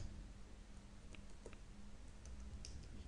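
Computer keyboard keys tapped to enter a command line at a Windows prompt, faint scattered clicks under a steady background hiss, sparse and irregular rather than a rapid run.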